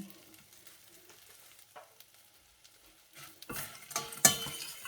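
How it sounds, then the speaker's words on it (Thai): Chili being stir-fried in butter in a pan over medium heat, quiet scattered taps at first, then a rising sizzle with scraping stirs and a clink of utensil against the pan. "ผัดให้หอมเนยไปก่อน ผัดหรือขัวนั่นแหละค่ะ ขัวใส่เนยเนาะ"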